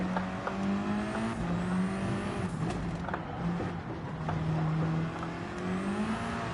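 A Volkswagen race car in Gran Turismo 7 holds a steady engine drone through the whole stretch, its pitch sliding up and down with gear changes, loud and close with no talking over it.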